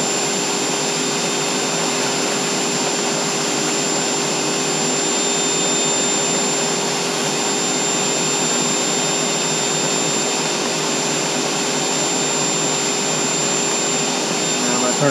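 Zig-zag seed cleaner running suction while sorting black oil sunflower seeds, a loud steady whooshing airflow roar that holds constant throughout.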